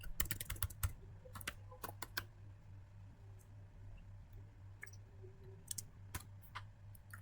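Computer keyboard typing a trace command on a MikroTik networking setup: quick bursts of crisp key clicks, a flurry at the start then scattered taps, fairly close over a low steady hum.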